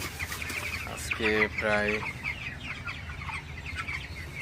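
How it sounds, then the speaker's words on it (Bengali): Broiler chickens on a farm cluck in short bursts over a low background murmur, with a few louder calls near the start and a person speaking briefly. "তো অল্প কিছু মুরগি আছে আমার খামারে এখন বিক্রির মতো।"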